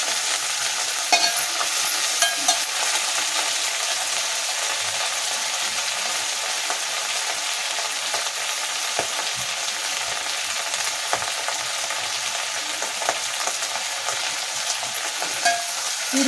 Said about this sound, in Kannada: ಪುದೀನ ಒಂದು ಕೈಯಷ್ಟು ಹಾಕೊಳ್ಳಿ, ಕೊತ್ತಂಬರಿ, ಚೆನ್ನಾಗಿ ಫ್ರೈ ಆಗಬೇಕು ಎಣ್ಣೆಯಲ್ಲಿ